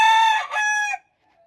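A game rooster lets out one close, loud crow with a rising then held tone, breaking off abruptly after about a second into near silence with a faint trailing note.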